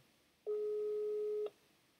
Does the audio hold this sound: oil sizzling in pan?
no